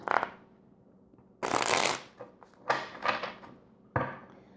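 A deck of tarot cards is cut and shuffled close by, with a sharp riffling burst followed by several shorter papery slaps and taps and quiet gaps between them.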